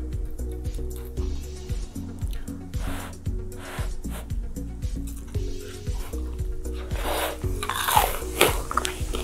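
Crunchy chewing and biting of home-cooked Korean food, such as crisp fried chicken karaage or a buckwheat crepe roll, comes in close, uneven bursts over a steady bed of background music.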